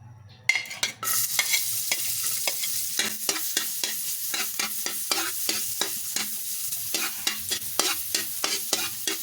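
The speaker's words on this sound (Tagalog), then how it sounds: "sunod na natin ilagay yung mga hiniwang bawang" Sliced garlic drops into hot margarine in a pan for corned beef sisig, bursting into a sudden sizzle that continues with rapid, regular scraping taps of the stirring utensil.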